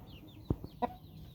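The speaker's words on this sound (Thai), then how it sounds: "ตัวนี้เป็นเป็นไก่เชิงอยู่แล้วล่ะเนาะ" Fighting cock, a Thai game-fowl-type rooster, giving a short clucking call with a couple of brief vocal bursts, close and fairly quiet against a low background.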